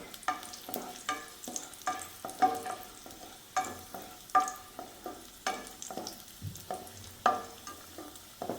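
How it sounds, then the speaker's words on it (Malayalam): Cashew nuts fry in hot ghee for a payasam, a quiet steady sizzle with rhythmic spatula stirs scraping the pan about once a second, close and without speech. "നെയ് ചൂടായിട്ടുണ്ട് നമുക്ക് അണ്ടിപ്പരിപ്പ് ചേർത്ത് കൊടുക്കാം"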